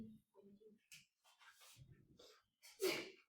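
A person sneezes in a quiet room during a maths lecture, a short sharp burst near the end after soft breathy sounds and murmured talk, fairly faint overall.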